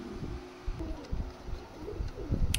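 Teddy and Kamagar pigeons kept in pairs coo softly and repeatedly close by, with low throaty calls over a quiet background.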